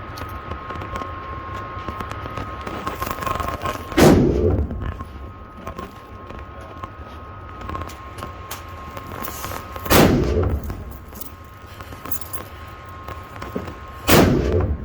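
Three loud gunshots ring out several seconds apart at an outdoor shooting range, each with a sharp crack and a short echoing tail over quiet background noise.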